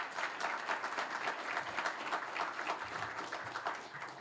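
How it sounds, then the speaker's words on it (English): An audience at a regional idea pitch event applauds Ernst & Young, a steady wash of many hands clapping that holds evenly for several seconds at moderate distance. "A round of applause for Ernst & Young"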